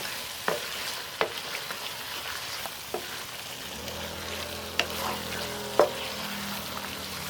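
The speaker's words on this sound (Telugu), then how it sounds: "దీన్ని కూడా బాగా మిక్స్ చేద్దాం." Chicken liver and gizzard stir-fried street style with dry coconut in a pan, sizzling steadily up close while a spatula knocks and scrapes against the pan every second or so, with no talking.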